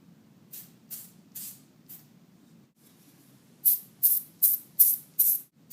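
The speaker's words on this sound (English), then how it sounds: "Very, very lightly spray in between that gap." Aerosol gun oil sprayed onto a Beretta shotgun during cleaning: four soft short hissing bursts, a brief pause, then five louder, sharper spritzes in a steady rhythm, close and alone over a low background hum.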